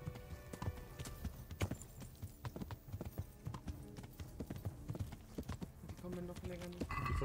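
Rapid, steady clip-clop of horse hooves at a gallop in the video game Kingdom Come: Deliverance, with game music and occasional talk over it.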